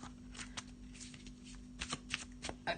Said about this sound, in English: let's just have a little shuffle